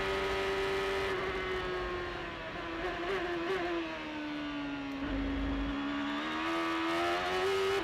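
Race car engine at the 2006 Road America Grand Prix, a loud sustained drone with pitch rising and falling as the driver balances the throttle, close and continuous with no talk.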